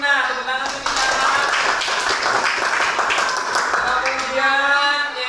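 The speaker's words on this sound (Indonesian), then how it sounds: "Tepuk tangan untuk Dina." Clapping from a classroom group for a student, a steady patter of many hands held for about five seconds, with voices speaking over it at the start and end.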